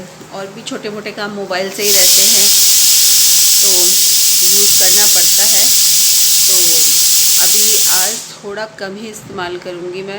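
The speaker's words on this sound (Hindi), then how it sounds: "कुकर की सीटी आ रही है" Steam hisses loudly and steadily from a pressure cooker whistle while peas cook. The sound lasts about six seconds with a voice continuing underneath, then it cuts off and her talking carries on.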